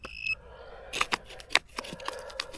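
Brief electronic metal detector tones and beeps sound over rustling and scraping noises, with a short steady beep near the start.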